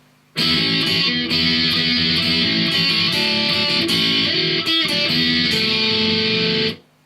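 Distorted electric guitar strumming the chord part of a song, a loud, dense wall of sound with brief gaps between chord changes, played alone with no voices.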